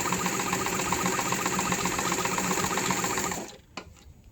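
A Singer Heavy Duty model 237 sewing machine stitches in a rapid, even mechanical chatter, running close and loud for over three seconds before stopping, followed by a faint click.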